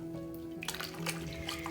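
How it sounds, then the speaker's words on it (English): Running water splashes continuously as dyed yarn is rinsed in a sink, a soft close trickle and slosh with a low hum underneath. "I'm just going to keep rinsing this until all the soap is out of the yarn"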